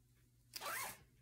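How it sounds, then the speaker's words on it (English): A single short zipper pull runs along the partial zip of a long-sleeve athletic shirt, close and soft against a quiet background. "again, it's got the partial zip."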